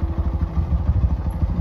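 A motorcycle rides down a steep, frightening mountain road, its engine thumping in a low, rapid, steady pulse with light clatter, close and moderately loud, with no talk.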